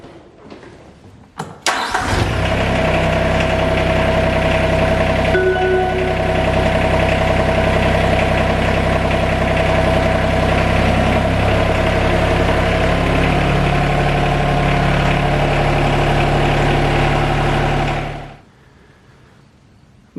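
TYM R25 compact tractor with its front loader just detached; the engine catches after a brief start and runs at a loud, steady idle for about sixteen seconds before cutting off, with no talk.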